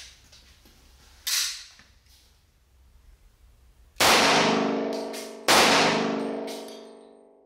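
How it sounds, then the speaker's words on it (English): Loud gunshots from a 357 SIG pistol firing 125 grain jacketed hollow point and full metal jacket rounds at an outdoor range: a sharper crack early on, then two heavy booming shots with long ringing decay, spaced about a second and a half apart. "Now we're going to shoot the 357 SIG, 125 grain jacketed hollow point and full metal jacket."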